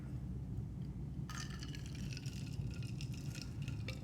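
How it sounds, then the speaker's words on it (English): A glass flask is lowered into cold water, a sudden bubbling, gurgling wash of liquid starting after a quiet moment and continuing with small drips and splashes close by during a chemistry equilibrium demonstration. "If I then take this flask and submerge it into some cold water,"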